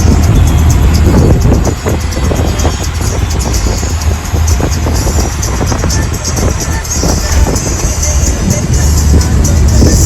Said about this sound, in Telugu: సో ఇదే అన్నమాట బెంగళూరులో ట్రాఫిక్.